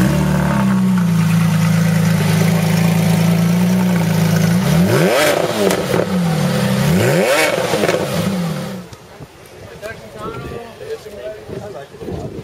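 A loud Porsche sports car engine roars and revs up through several rising sweeps, then drops away, leaving quieter rumbling and background noise.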